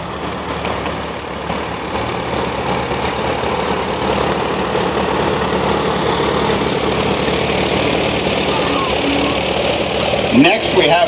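A 1945 Formula A antique tractor idles at an agricultural expo parade, its engine a steady low rumble that runs for the full eleven seconds amid crowd noise, with a brief louder burst near the end.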